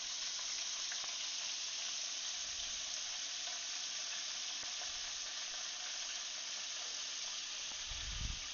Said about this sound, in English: Have a nice sizzle to them.